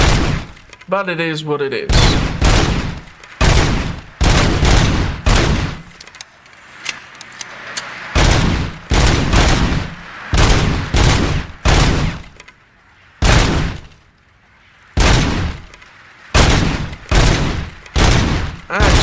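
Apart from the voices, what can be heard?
gunfire from the gun in the video game Robocop Rogue City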